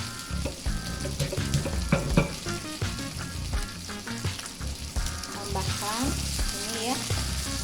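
Galangal, lemongrass and bay leaves sauté in a hot pan for beef soto, with a busy close sizzle broken by frequent clatters and scrapes of stirring.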